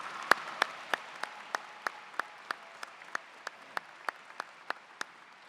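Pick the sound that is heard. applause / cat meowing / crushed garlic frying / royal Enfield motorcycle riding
applause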